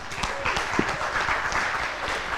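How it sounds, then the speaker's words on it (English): Audience applause at a press freedom symposium, a steady wash of many hands clapping for a couple of seconds at moderate distance. "join me to thank Madam Joanna Nakabito with a hand clap."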